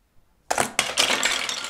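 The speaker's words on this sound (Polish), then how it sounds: "mi udało się za pierwszym razem rozbić całą wieżę" A Jenga block tower from the Angry Birds Go trophy cup game collapsing after a bird is launched at it: silence, then a sudden loud clatter of wooden blocks tumbling and knocking together, a second crash close behind, then scattered rattling.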